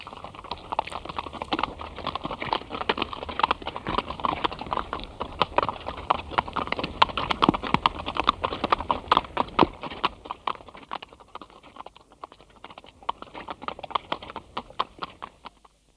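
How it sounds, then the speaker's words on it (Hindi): Horse hoofbeats gallop in a steady, fast clip-clop for a radio play sound effect, loud and continuous, easing slightly toward the end. "रानी ने अपने घोड़े को सर पर दौड़ाया।"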